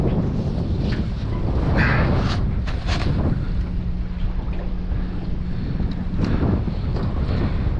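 Strong northerly wind buffets the microphone in heavy, uneven roaring gusts while fishing, with a low engine-like hum underneath for a stretch.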